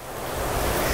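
A five-foot-tall backyard pool waterfall pours steadily into a pebble-finish pool, a dense continuous rushing splash heard close and fairly loud.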